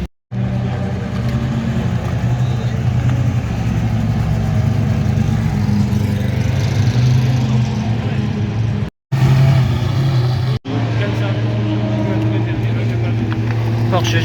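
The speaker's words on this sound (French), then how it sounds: "Porsche GT3R." Porsche GT3 R race car engine running on the starting grid at the Nogaro circuit before qualifying, a loud steady mechanical drone that cuts out briefly twice and then resumes.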